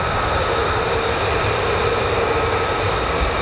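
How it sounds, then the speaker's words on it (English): An F-35C fighter jet flies near RAF Lakenheath with a continuous loud, broad engine roar, steady and unbroken throughout, with no voices. "It's a good day when you see this aircraft."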